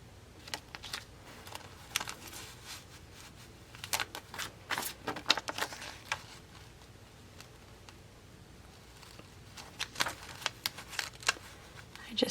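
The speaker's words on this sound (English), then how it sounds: "I'm trimming off just the excess of this carrier sheet" Deco foil carrier sheet being trimmed, giving a run of light, crisp snips and rustling plastic film, close and fairly quiet, bunched in short bursts with pauses between.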